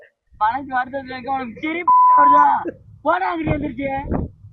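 A single steady censor beep cuts into a song from an Instagram reel, lasting about half a second in the middle while the singing voice carries on before and after it.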